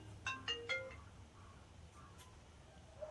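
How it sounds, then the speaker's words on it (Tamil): A phone ringtone plays a few bright, quick melodic notes close by, then fades into faint tones with a soft chime near the end, and no one speaks. "மாமா உங்களுக்கு ஃபோன் அடிக்குது."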